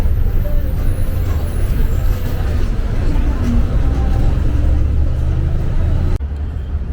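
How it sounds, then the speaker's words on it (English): An old-school city bus in Lima traffic, with loud, close, continuous engine rumble and roadway noise throughout, easing slightly just before the end. "Old school buses."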